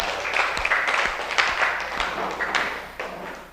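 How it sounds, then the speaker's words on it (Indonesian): A group in a classroom lesson claps hands, an uneven patter with a few heavier taps and thumps scattered through roughly three and a half seconds. "Tepuk tangan buat kita semua."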